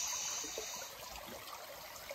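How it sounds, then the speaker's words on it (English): A Dartmoor river flowing over rocks outdoors, a steady, faint rushing and trickling of water that holds evenly throughout with no voices over it. "Hear the sound of the river."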